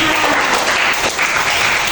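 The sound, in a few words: applause for Ervin and Rahma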